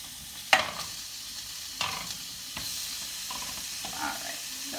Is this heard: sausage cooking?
yes